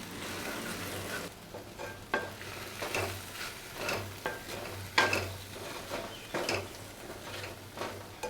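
Spoon stirring cumin-fenugreek masala powder into okra curry in a pan, with soft scraping strokes at irregular intervals over a low steady sizzle, close and fairly quiet, no talking.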